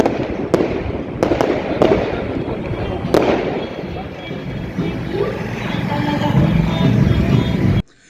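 New Year fireworks pop and crackle outdoors in sharp, scattered bangs, with several loud reports early on over a constant rumble of crowd noise. People can be heard talking throughout.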